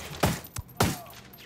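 Three sharp gunshots from a favored rifle in Ghost Recon Wildlands ring out at uneven intervals, each a loud, punchy crack with a short tail and no one talking.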